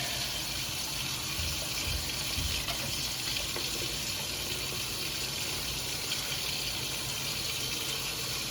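A dish is washed under a steady stream of running tap water at a sink, the loud, continuous gush filling the whole stretch with small splashes and no speech.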